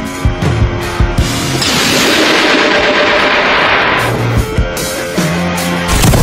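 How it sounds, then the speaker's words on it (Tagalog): A massive bomb explosion in the anime Hunter x Hunter roars in a long rumbling blast, with scattered crackling bangs before and after, loud and close. "makikita mo ang pagsabog ng pangatlong bomba na nakatanim sa lugar na ito."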